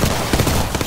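Rapid gunfire crackles in bursts during an Apex Legends match, loud and dense over a brief moment.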